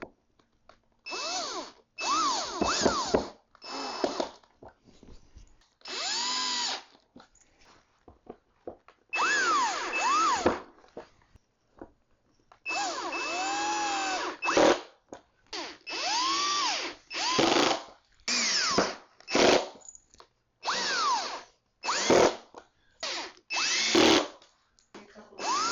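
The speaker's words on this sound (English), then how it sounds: "you're going to drive all the cam bolts into the side pieces" A power drill drives cam bolts into the side panels of an IKEA Kallax bookshelf in repeated short whirring bursts. The bursts are close and loud, with their pitch rising and falling as the motor starts and stops, and brief pauses between them.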